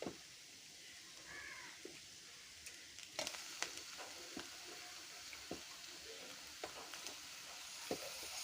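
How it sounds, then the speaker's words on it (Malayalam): Chicken is added to curry masala with curry leaves in a pan and stirred, producing a soft sizzle under sharp, intermittent scrapes and clatter of a spoon against the pan. "ഇനി നമുക്ക് ചിക്കൻ ചേർത്തിറക്കാം"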